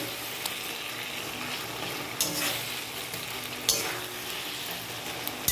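Taro greens with a hilsa fish head being stirred in hot oil, a continuous close sizzle with a few sharp scrapes and clinks of the spoon against the pan.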